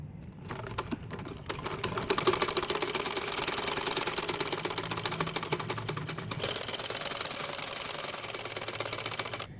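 A sewing machine stitches along the waistband casing of a ladies' pajama, running in a steady fast rattling burst for most of the stretch and briefly slowing midway, close and loud with no talk.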